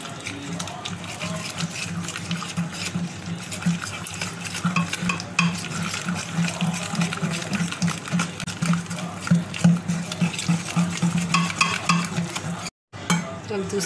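Egg being stirred into chocolate fudge brownie batter in a bowl, a steady scraping, slapping rhythm running throughout at close range, with a brief pause near the end.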